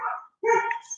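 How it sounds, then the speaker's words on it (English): Neighbourhood dogs bark nearby, two quick close barks with a brief gap between them, loud and sharp against otherwise quiet surroundings. "The dogs are going crazy, all the dogs in the neighborhood"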